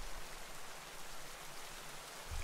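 Rain in the Pokémon Shield game, a faint, steady hiss of falling rain with no voices over it.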